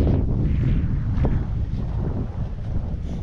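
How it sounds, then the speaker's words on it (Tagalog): Strong wind sweeps across a farm with calamansi trees, a continuous low roar with gusting rises and falls and no speech. "hanggang ngayon napakalakas pa rin ng hangin"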